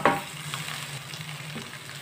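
Mixed potatoes and green coriander frying in a pan for aloo bara, a steady close sizzle with a brief stirring clatter at the start, no voices.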